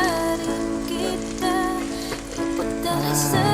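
An eggplant omelette, tortang talong, fries in a pan with a steady, soft sizzle that runs beneath prominent tonal music.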